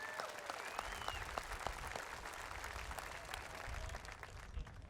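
A crowd at a 2021 high school graduation ceremony gives a sustained round of applause for the graduating students, a continuous, moderately distant clapping texture with a few sharper claps standing out and no speech.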